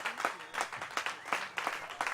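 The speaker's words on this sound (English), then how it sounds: "Let's give you another round of applause." A short, lively round of applause from an audience at a breakfast event, with clustered claps rising and falling in bursts, no voices heard.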